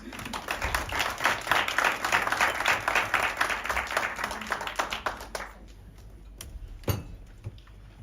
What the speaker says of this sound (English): may we please welcome her with a warm round of applause